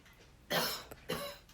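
Two separate coughs, each sharp at the start and fading, with a short quiet gap between them.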